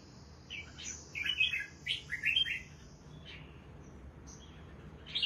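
Caged songbirds chirp and sing in short bursts of bright tweets over a soft steady background hum, several calls clustering in the middle, no talking.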